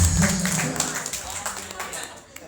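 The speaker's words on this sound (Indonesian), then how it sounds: "kita tepuk tangan untuk Bella" Audience clapping for a young woman named Bella at a film event, a burst of applause that fades over a couple of seconds beneath a speaking voice.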